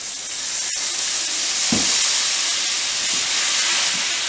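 Redfin fish cooking in a home kitchen pan, a steady loud hiss and sizzle throughout with a couple of faint clinks, no voices.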